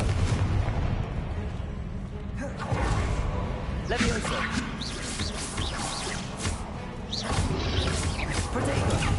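Booming spell blasts from the Hogwarts Legacy game, cast as Confringo, rumble in repeated heavy explosions over a dense, loud battle din, with a voice calling out during the fighting.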